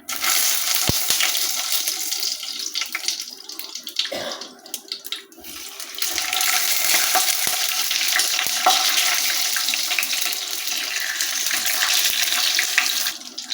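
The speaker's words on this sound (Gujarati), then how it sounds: "હવે આપણે જે મરચાં ભરીને સ્ટીમ કર્યા છે એ વઘારી દઈએ." Loud, rushing sizzle of steamed stuffed chillies hitting hot oil with cumin, a brief dip midway before the hissing surges back and continues steadily close by.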